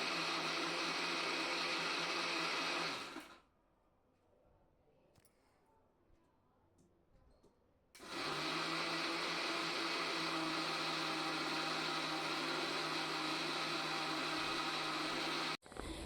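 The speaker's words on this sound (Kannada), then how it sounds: "ಇವತ್ತು ಬರ್ಡೇ ಆದರೂ ಕೂಡ ಮಿಕ್ಸಿಗೆ ಹಾಕ್ತಿದ್ದಾರೆ ನೋಡಿ" Electric mixer grinder running loud and close, whirring steadily before and after a short pause mid-way, with faint background noise in the gap; prepared for tomato sambar and cauliflower palya.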